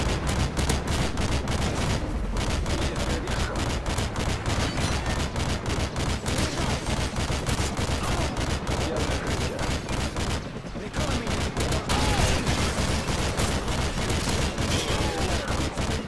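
Sustained automatic gunfire from a first-person shooter video game, a rapid steady barrage of shots filling the whole stretch with a brief pause midway, loud and close.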